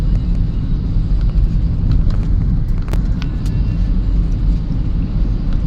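A car drives into the EDSA Ayala Tunnel in Makati in light early-morning traffic, giving a steady, loud low engine and road rumble that stays constant throughout with a few faint higher clicks.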